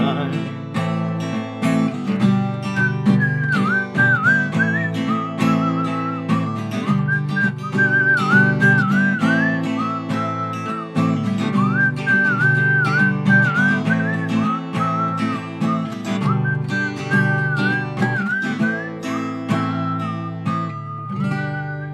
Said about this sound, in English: I've hit the right note there with the whistle.